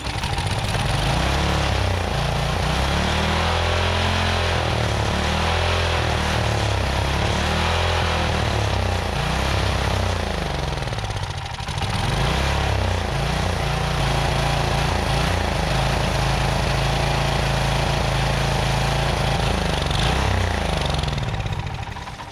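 An old abandoned tiller's small engine running loud and close with a rough, uneven rattling drone, its pitch wavering up and down and dipping briefly midway before settling into a steady run.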